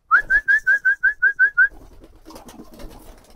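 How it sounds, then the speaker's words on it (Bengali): Pigeons coo while feeding among scattered rubbish: a close series of about eight evenly spaced, clear cooing notes, then quieter shuffling and pecking noise. "দেখেন অনেক আবর্জনা বাইরে, কবুতরগুলো তো খাইতেছে।"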